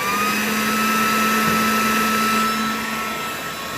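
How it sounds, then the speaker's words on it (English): A Craftsman C3 19.2-volt cordless vacuum cleaner runs continuously with a steady, high whine and a constant motor drone, close by, with no talking. "This is the Craftsman C3 vacuum cleaner."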